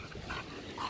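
A female dog at a kennel, a Best in Show puppy winner, makes a brief, soft whining yip close by, lasting about a second with no talking.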